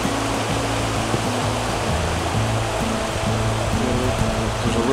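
A mountain river in the Great Smoky Mountains near Elkmont flows over rocks with a steady, loud, close rushing roar and no talk.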